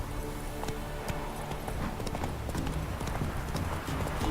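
Hooves of Roach, the horse in The Witcher video game, clip-clop in a steady continuous rhythm, close and fairly loud, with a hint of a low voice underneath.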